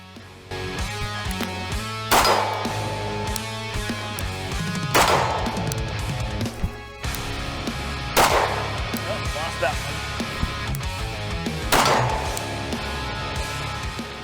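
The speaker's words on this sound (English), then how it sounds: "Put some more rounds through it." Staccato XC pistol fired outdoors at a 26-yard target, four loud, sharp shots spaced a few seconds apart, each with a ringing tail over steady background noise.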